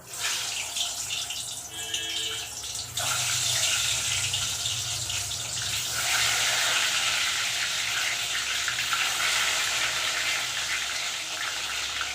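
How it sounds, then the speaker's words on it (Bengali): Boiled eggs are dropped into hot oil in a pan while an egg curry is being cooked. A loud, steady, hissing sizzle surges in after a few seconds and carries on continuously. "ডিমগুলো ছেড়ে দেবো তেলে"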